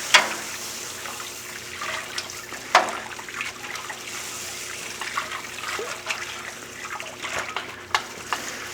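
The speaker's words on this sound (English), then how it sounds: "I'm going to try to mash in a little slower than I normally do." Water and grain being poured together for a homebrew beer mash-in, giving a steady watery rush and trickle with a few sharp splashes and clinks, moderately close and without talk.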